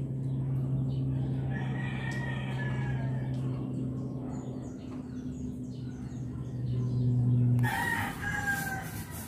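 Rooster crows loudly and chickens cluck nearby on a rural farm after feeding time, with a long crow dominating the first seconds, then a second crow and a burst of higher clucking near the end.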